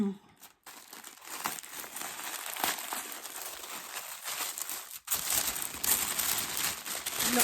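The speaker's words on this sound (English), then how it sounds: "Lots of rustling noises today." Crinkly plastic packaging around a skein of knitting yarn rustles and crackles loudly up close, in continuous handling bursts with a brief pause partway through, a knitting project being unwrapped.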